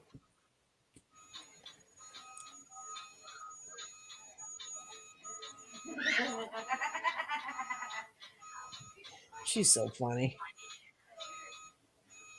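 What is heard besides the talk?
toy truck beeping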